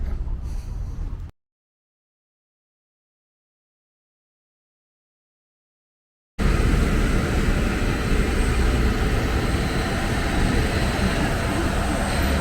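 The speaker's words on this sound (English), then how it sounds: "Don't get too close to the jet engine." A jet airliner engine runs near an airport jetway, a loud steady roar with hiss that cuts in abruptly after a silent gap, following a brief burst of noise at the start.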